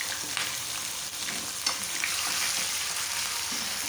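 About a kilogram of chicken fries in roughly a cup of oil for a masala chicken, giving a steady, dense sizzle throughout with a few stirring scrapes and no voices.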